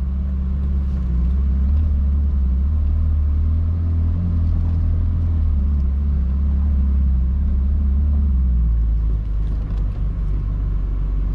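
Ferrari 296 GTB rolling slowly into a home driveway, a steady deep low rumble from the engine heard close up at a constant level, with no sharp revs.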